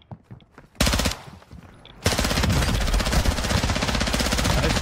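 Rapid automatic gunfire in the Call of Duty DMZ video game, a short burst followed by a longer sustained volley of loud, closely spaced shots.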